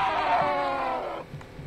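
A goat bleats in a video game, one long, loud, wavering cry that fades out near the end, with no talk over it.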